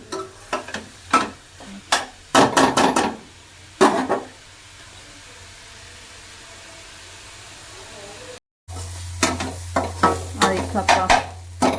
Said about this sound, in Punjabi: ਇਹ ਭੁੰਨਿਆ ਜਾਊਗਾ ਚੰਗੀ ਤਰ੍ਹਾਂ ਲੱਗ ਜਾਣਗੇ 15-20 ਮਿੰਟ ਇਹਨੂੰ ਭੁੰਨਣ ਤੇ ਪਿਆਜ਼ ਨੂੰ